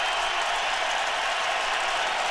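Football stadium crowd at a 2010 Ravens–Patriots game in New England rising and cheering for a returning receiver after his first catch; a dense, steady roar of cheers and applause fills the whole stretch without a break.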